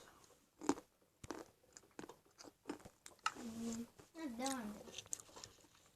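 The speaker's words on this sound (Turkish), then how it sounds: "Burada niye böyle şapırdatma sesleri geliyor diyorsanız" Smacking, crunchy chewing sounds of people eating outdoors in a survival setting, a few close bites and mouth noises scattered between bursts of talk and laughter.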